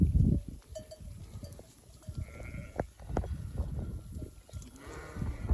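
A flock of sheep heard outdoors on a farm: several bleats, near and farther off, over a low background murmur, with a faint bell-like clink now and then.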